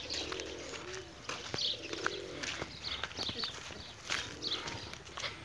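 Free-flying pigeons give low, soft coos in short bursts, with faint chirps and scattered knocks around them.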